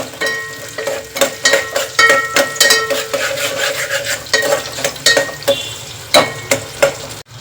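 Ingredients for palak pulao fry and sizzle in a pan while a spoon stirs and scrapes against the metal in repeated close, clattering strokes over a steady crackle.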